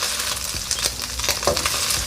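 Beef crisps in a pan for a Beijing beef stir fry, giving a bright, steady sizzle with occasional stirring clinks and scrapes, close and with no voices.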